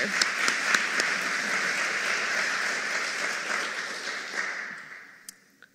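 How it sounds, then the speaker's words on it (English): Audience applause at a talk about games, a dense sustained round of clapping that holds steady and then tapers off toward the end. "another round of applause too for putting it all together"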